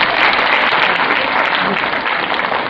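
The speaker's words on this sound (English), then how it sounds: "Clapping." A hall full of people at a personality development program claps continuously, a thick, even patter of applause lasting a few seconds.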